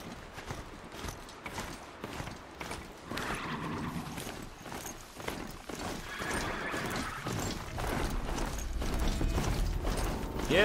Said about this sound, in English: Yeah, I got a robo horse.